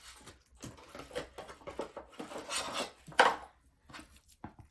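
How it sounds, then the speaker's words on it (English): Scissors cut through thin aluminium sheet along the edge of a die, producing a series of close, crisp snipping and rasping strokes in an irregular rhythm, with a sharper cut near the middle. "And then we're just going to take our scissors"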